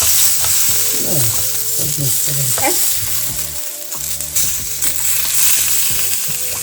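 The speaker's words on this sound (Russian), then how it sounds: "колбаски шкварчат" Sausages sizzle and crackle steadily in a hot pan with green asparagus, with occasional scraping stirs and a low hum in the background.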